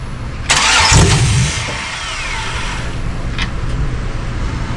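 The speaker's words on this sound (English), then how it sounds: "We're gonna try to listen to see if the pump runs while I'm cranking." A 1994 OBS truck with an LS engine swap cranks briefly in a loud burst, then settles into a steady whirring hum, the electric fuel pump running, with no voices.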